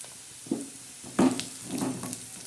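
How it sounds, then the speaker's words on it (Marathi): Dried bombil (Bombay duck) sukat masala with turmeric and salt is stirred and sautéed in a pan, giving a soft, steady sizzle broken by a few close scraping stirs. "आता हे चांगलं असं मिश्रण आपण परतून घेणार आहोत"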